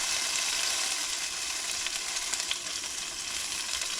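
Meat browns in a hot frying pan, giving a steady, close, continuous sizzle and crackle with no talking.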